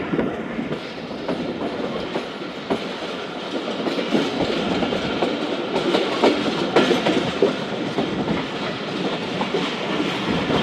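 Karachi Express train rolling past up close, a steady loud rumble with rhythmic clickety-clack of wheels over rail joints running throughout.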